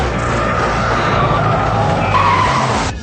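A Subaru skids through a close-quarters rally test, with loud, continuous engine roar and tire scrubbing that run steadily for a few seconds before cutting off.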